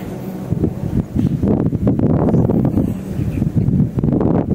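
Steady wind buffeting the microphone, rumbling loudly in gusts with some rustling underneath.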